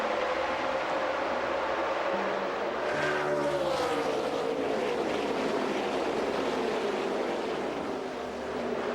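NASCAR Nextel Cup race cars roaring around the Kansas track, a dense wash of engine noise with one pitch sweep as cars pass, steady and moderately loud with no voices.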